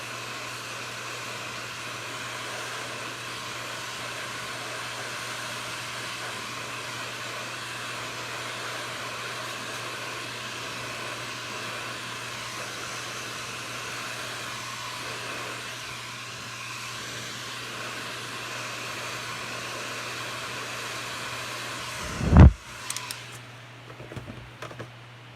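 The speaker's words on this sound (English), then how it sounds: "hit it with a heat gun again before I put the black on" Heat gun blowing on a spinning marble-painted tumbler gives a long, steady whooshing hum with a low tonal drone, ending in a few sharp knocks and clatters.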